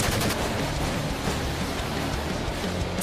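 Gunfire from a Deadpool vs Dante fight in a video game's arcade mode forms a dense, continuous rattle of rapid shots at steady loudness, with no voices.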